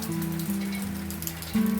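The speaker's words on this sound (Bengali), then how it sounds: "এই দেখো কেমন বৃষ্টি পড়ছে দেখছ" Steady rain falls outdoors around a village home, a soft continuous patter and hiss with a low hum beneath, no voices.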